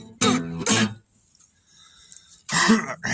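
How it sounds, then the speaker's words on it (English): A person clears their throat with a couple of rough, guttural bursts, followed by a short pause and another harsh clearing sound. "I gotta clear my throat"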